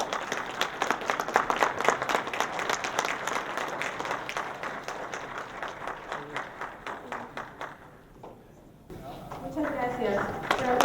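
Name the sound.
audience applauding presenter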